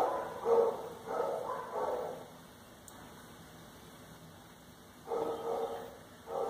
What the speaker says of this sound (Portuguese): Começou a cachorrada, tava demorando.